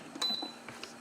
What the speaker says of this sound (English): let me hit cancel because I am done